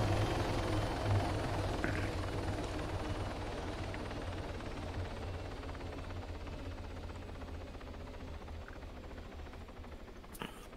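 A helicopter in the military shooter game Arma 3 gives off a continuous rotor drone with steady chop at moderate level, fading slightly over time, with a faint click near the end and no voices.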